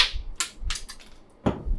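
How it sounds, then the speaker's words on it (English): A small hammer taps sharply on screws while working on a DIY photo board, several light, irregular metallic knocks close by with quiet gaps between. "I need to take those screws out. Where's my little hammer at?"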